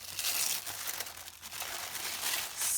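Paper wrapping being pulled off a notebook crinkles and crumples in close, uneven bursts, with no talking.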